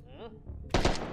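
Enemy gunfire in Hot Dogs, Horseshoes & Hand Grenades, a short rapid burst of several shots arriving abruptly after a brief voice.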